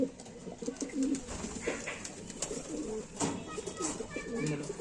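Madrasi racing pigeons coo in soft repeated calls close by, with someone talking over them.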